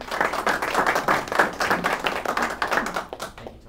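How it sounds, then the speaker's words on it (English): A live audience applauds a speaker at a morning event, a brisk burst of many hands clapping with distinct individual claps audible, fading out quickly at the end. "Let's give a warm round of applause for Scott Whitten."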